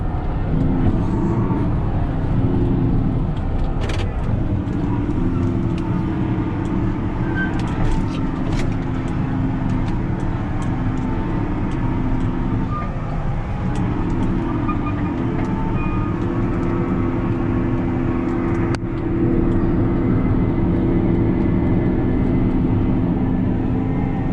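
Case Quadtrac 580 tractor working a field during tillage in heavy conditions, a steady deep diesel drone heard from the cab, constant and fairly loud with occasional clanks and knocks.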